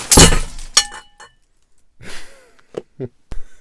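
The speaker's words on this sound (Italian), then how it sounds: "scusate è caduta l'illuminazione" Lighting equipment topples over mid-recording with a loud crash and clattering rattle, followed after a pause by a few softer knocks and bumps nearby.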